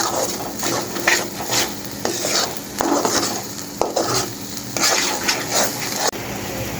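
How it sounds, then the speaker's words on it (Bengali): Spice paste for prawn malaikari stir-fried in a pan, with repeated scraping and clinking strokes of a spoon against the metal every second or so over a low, steady sizzle, close by and fairly loud. "এই মশলাটাকেও ভালোভাবে কষিয়ে নিব"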